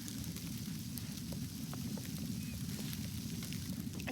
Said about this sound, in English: I think it's freezing rain, ice pellets, maybe a bit of snow.